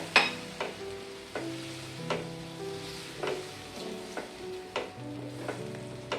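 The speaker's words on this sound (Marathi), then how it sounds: "आणि लगेच आपण हे इडली कापून घेतले ते टाकून घेऊया। व्यवस्थित परतून घ्यायचं आहे।" Cut pieces of leftover idli sautéed in a pan for a masala breakfast: a soft, steady sizzle under repeated sharp spatula scrapes and taps against the pan, spaced a second or so apart, heard close up.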